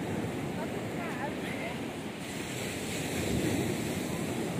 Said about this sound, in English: We are here at a beach. A very quiet beach with very whitey sand,